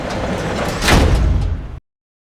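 A heavy door aboard a ship slides shut with a rumbling, grinding rush that swells midway and ends abruptly in silence.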